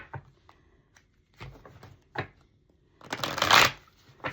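Tarot cards are shuffled up close: a few soft taps and riffles, then a denser, louder riffling burst near the end, with no talking.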